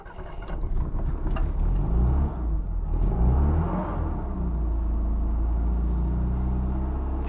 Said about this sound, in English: here's our ride along in a 1972 Italian Mini.